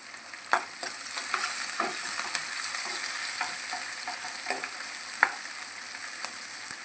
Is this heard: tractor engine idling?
no